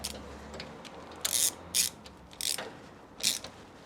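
Ratchet wrench tightening a part on a Citroën 2CV engine, four short close clicking bursts spaced irregularly over a quiet workshop background.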